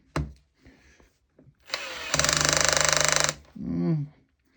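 A Metabo 12V drill-driver runs up, drives a bugle-head screw into wood and ratchets its clutch in a fast, loud clatter for about a second, with short whirs before and after.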